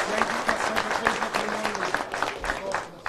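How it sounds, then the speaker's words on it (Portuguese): A crowd at a municipal market anniversary celebration breaks into sustained applause for city councillors, many hands clapping together in a dense, steady patter that fills the space. "Eu quero, no nome do Tinha de Ferreira, uma salva de palmas para todos os vereadores aqui da nossa cidade."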